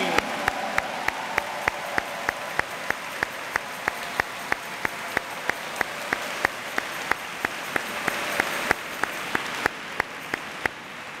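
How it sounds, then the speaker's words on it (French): Audience applause at a Catholic talk on devotion to Mary, a steady rhythmic clapping in unison with sharp regular beats, loud and sustained for about eleven seconds with no voices over it. "On applaudit encore bien fort Marie."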